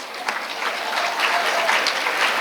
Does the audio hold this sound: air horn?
no